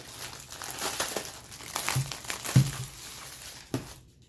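Plastic wrapping crinkles and rustles in irregular bursts close up, with a few sharper crackles, quiet overall.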